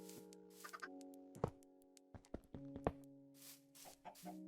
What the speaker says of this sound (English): Oh, chickens. I guess we got chickens.